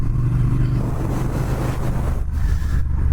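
A Triumph Speed Twin motorcycle engine revs hard and pulls under a steady, loud roar while accelerating, with constant wind rush buffeting the microphone throughout and no voices.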